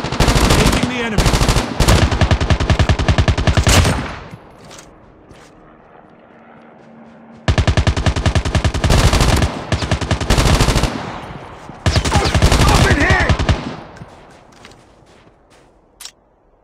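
Rapid automatic gunfire bursts from a Call of Duty Mobile battle royale match, two long loud volleys separated by a quieter lull, then a shorter final burst.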